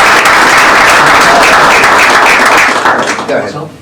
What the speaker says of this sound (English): I think that history lesson deserves a big round of applause by itself.